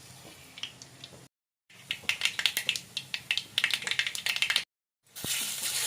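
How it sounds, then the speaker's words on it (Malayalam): Mustard seeds popping in hot coconut oil in a pan, a rapid irregular crackle of sharp pops that builds into a dense burst, then briefly cuts out. "കടുകൊന്ന് പൊട്ടിച്ചെടുക്കാം."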